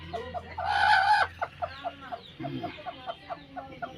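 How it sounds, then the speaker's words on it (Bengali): A desi naked-neck hen clucks in a steady series of short, evenly spaced notes after an opening louder squawk, close by in a quiet coop. "এইখানে দেখুন একটি দেশি মুরগির গলা চুলাটা"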